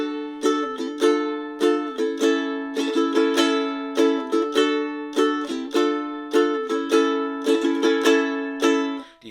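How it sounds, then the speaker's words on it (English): Ukulele strummed in a steady pattern with quick triplet flourishes mixed in among the down and up strokes, bright and close, no talking. "The triplet strum gets thrown in there occasionally."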